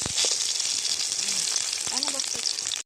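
Tomatoes and two garlic cloves char in a hot pan for a tomato mash, giving a steady, loud, close sizzle with occasional pops and stirring until it cuts off abruptly.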